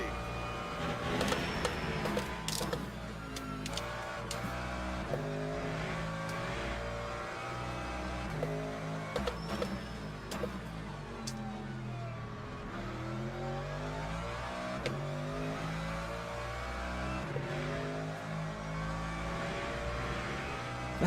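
Race cars lapping in Le Mans Ultimate, played in VR, with several engines rising and falling through gear changes, steady loud engine drone throughout and no talk.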